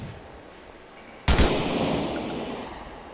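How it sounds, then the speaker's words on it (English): An M4 rifle in modded GTA 4 opens up abruptly, a loud sharp burst of gunfire whose echoing, rumbling tail rings on to the end. "Let me try some other weapon. Yeah. This one, the M4."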